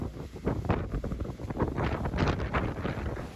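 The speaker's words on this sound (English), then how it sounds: "It's really windy here" Strong wind on Scotland's west coast buffets the microphone in continuous loud gusts, a rough rumbling roar with no voices.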